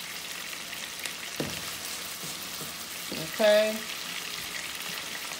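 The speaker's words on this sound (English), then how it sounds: "we're just going to drop these onions in there, guys, and just let them cook" Onions sizzle softly in a hot pan for burgers, a quiet steady frying hiss with a few clicks and scrapes, while a voice speaks briefly.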